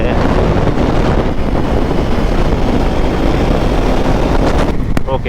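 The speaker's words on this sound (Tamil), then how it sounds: "இனிஷியலில் முறுக்கும் போது வரும் பாருங்க அந்த பவரு." A KTM Duke 390 motorcycle engine revs hard during a night ride from Chennai to Pondicherry, a loud continuous drone mixed with heavy wind rush, with a brief sharper burst near the end.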